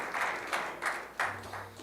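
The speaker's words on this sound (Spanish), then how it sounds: "Dele un aplauso al Señor" A church congregation applauds, a moderate wash of many hands clapping that swells in uneven waves over a couple of seconds.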